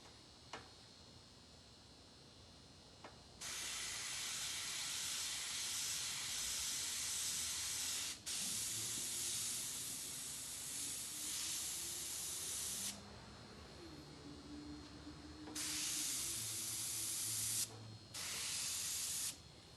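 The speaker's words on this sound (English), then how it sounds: "I will iron this to heat set it." Steam iron hissing and spraying while heat-setting paint on a hoodie, loud bursts of steam in long stretches with brief pauses between them.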